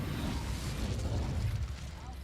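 An Incendio fire spell cast in the video game Hogwarts Legacy, a low, rumbling fiery burst with crackling pops, under a voice talking.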